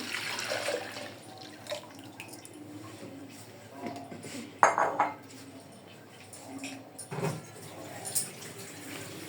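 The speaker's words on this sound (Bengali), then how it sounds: "পানিটা আমি ঢেলে দিলাম।" Water is poured into a pan while making Thai soup, splashing and trickling against the metal amid light clatter of pots and utensils; no one speaks.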